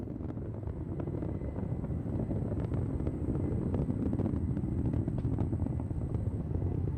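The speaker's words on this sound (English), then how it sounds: "The BE4 is now throttling down in preparation for SRB burnout." ULA Vulcan Centaur rocket with BE-4 engines during launch, heard as a steady, distant, broad low roar and rumble with crackle that holds for the whole stretch, no voices over it.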